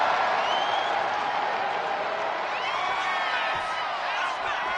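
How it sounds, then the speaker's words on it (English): A live crowd at a show applauds steadily with scattered whoops and cheers, a dense, continuous wash of clapping that stays loud from start to finish. "Look at Jordan, getting the crowd involved."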